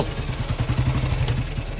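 A motorcycle idles after being pulled over, its engine chugging in a steady, loud, close rhythmic putter that runs unbroken throughout with no voices over it.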